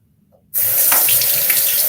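Sink tap suddenly turned on for a face rinse, water gushing steadily into the basin with a loud, close, hissing splash after a moment of near silence.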